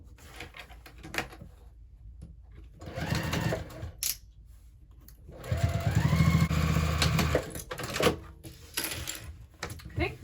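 A sewing machine stitches the side pieces of a hobo bag, running in short bursts and then one longer steady whir, with a few clicks and handling knocks in between.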